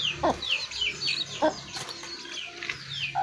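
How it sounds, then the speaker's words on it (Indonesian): Several chickens clucking and murmuring as they settle down to roost for the night beside a backyard well in Manado, scattered short calls repeating at moderate distance over quiet ambience. "Ayam-ayam lagi mau tidur."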